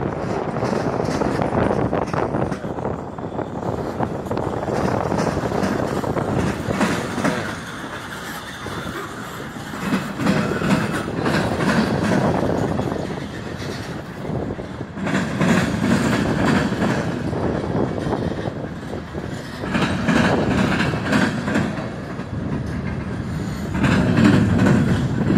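A Norfolk Southern freight train rolls past close by, cars including a refrigerated boxcar, with a loud continuous rumble and rhythmic clickety-clack of wheels over rail joints, plus gusts of wind buffeting the microphone.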